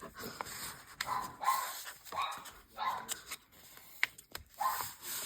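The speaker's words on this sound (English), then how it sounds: "Sorry for the dog." A dog barks in faint, scattered bursts about once a second, with soft whimpers and rustling mixed in, heard from a distance indoors while travelling in England.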